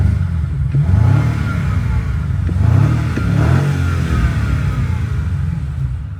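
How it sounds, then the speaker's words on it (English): A new BMW M5's engine revs up several times in quick succession, rising to a deep growl and settling back to idle. "Let's give this thing some revs."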